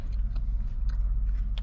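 Close, steady chewing of a breakfast burrito filled with crunchy bacon, potatoes, cheese and egg, with soft crunching bites repeating through a short stretch and no talking.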